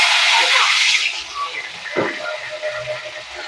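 Curry leaves drop into hot oil already crackling with mustard seeds and fennel, bursting into a loud, bright sizzling hiss that fades over a second, followed by lighter spitting crackles.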